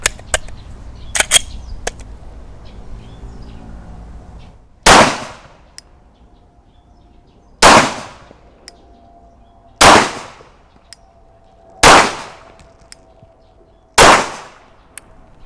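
A Bul Axe Tomahawk 9mm Glock-style pistol firing at a range, with five loud, close gunshots spaced roughly two to three seconds apart, each ringing out briefly after a few softer clicks and handling noises.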